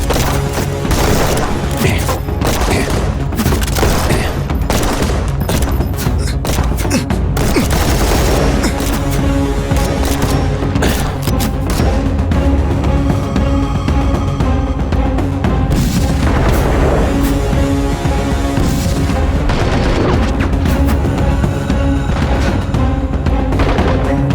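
Loud, continuous gunfire with rapid bursts and booming shots, dense and chaotic throughout with no pauses, in a sci-fi action film.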